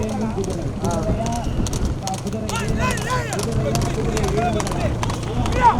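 Hooves pounding in a fast, steady gallop of racehorses in a big-horse race in Coimbatore, beneath continuous excited commentary and crowd noise.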